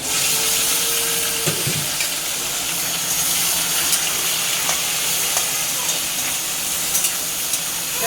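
Prawns hit a hot pan of frying potatoes and onions, giving a loud, steady sizzle with scattered crackles and occasional stirring scrapes, close and continuous.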